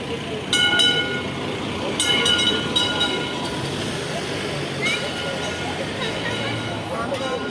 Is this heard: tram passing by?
yes